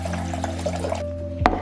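Bottled water is poured into a dog's bowl, a short trickling splash over a low background hum that stops abruptly, ending with a single sharp clunk.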